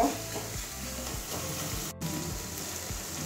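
Potol dolma, pointed gourds stuffed with chhana, frying in a pan with a steady, close sizzle and occasional stirring scrapes, unbroken apart from a brief cut near the middle.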